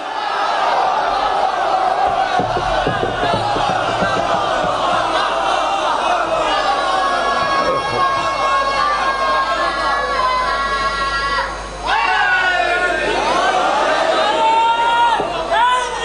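A large crowd of mourners at a Muharram religious gathering chants slogans together, loud and close, with voices rising in overlapping waves throughout. A brief dip comes before the chanting swells again.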